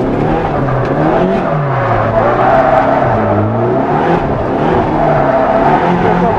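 A Nissan 240SX drift car with an SR20 engine spins donuts, its engine droning loud and close with steady throttle, pitch wavering up and down as it circles, tire noise beneath.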